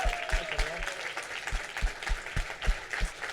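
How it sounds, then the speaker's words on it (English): Standing audience applauding after a startup fundraising talk, a steady, moderately quiet patter of many hands with occasional sharper claps, and a faint voice drifting over the opening. "Give her another round of applause. Standing."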